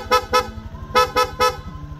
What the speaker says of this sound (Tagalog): Sa busina, PIA auto style horn, dual horn setup, horn selector switch.